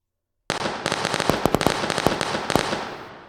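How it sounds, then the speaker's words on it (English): A rapid burst of video game firework bangs and crackles from Five Nights at Freddy's Ultimate Custom Night, sharp pops scattered over a dense hissing fizz, loud and close, with no talking. "Oh, fireworks. That's new."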